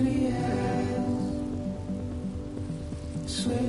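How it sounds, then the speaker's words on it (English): Steady rain pours in the video game Death Stranding, a continuous hiss of drops hitting the ground. It sits under a low droning music bed and is fairly loud. "Rain, here it goes."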